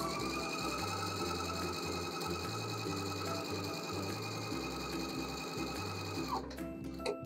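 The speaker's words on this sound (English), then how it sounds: "we are just stitching through one piece of fabric at a time" A sewing machine stay stitches through a single layer of fabric, running as a steady, continuous mechanical whir close up that cuts off abruptly near the end.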